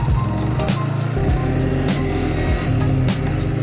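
A Yamaha Vixion motorcycle engine runs loud and close, its throttle blipped in several quick revs that rise and fall over a steady idle rumble.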